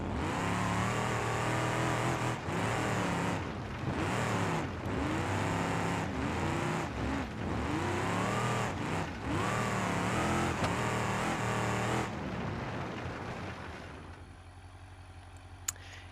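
A farm truck in the BeamNG.drive driving game revs hard in a loud, continuous engine roar with rising and falling pitch sweeps. The roar drops away near the end, leaving a quieter idle.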